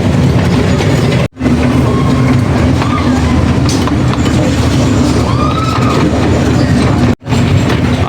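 Toy train ride at Bal Bhavan, a steady rumbling roll with rhythmic clickety-clack of wheels on rails, loud and close throughout, with two brief drops near the start and end.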